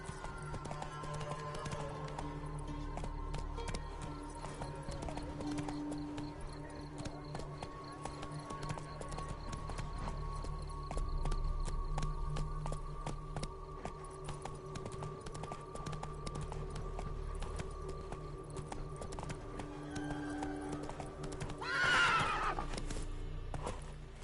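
Roach, a horse in a video game, gallops with a steady clip-clop of hooves and whinnies, over a continuous game soundtrack, then gives a louder neigh near the end.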